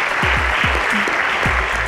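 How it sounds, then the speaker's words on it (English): A studio audience at a Nigerian school quiz championship bursts into loud, steady applause after a correct answer. The dense clapping runs throughout, with a voice briefly speaking over it. "Correct. A round of applause."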